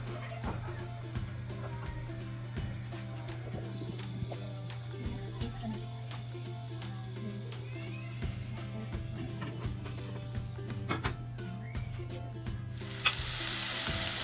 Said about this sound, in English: Frying the chicken wings since the potato is already brownish